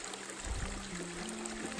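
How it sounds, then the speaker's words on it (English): On the Appalachian Trail, water flows down a hiking path that has turned into a creek. A faint, steady trickle and stream murmur runs continuously with no voices. "The trail has basically turned into a creek that I'm walking down."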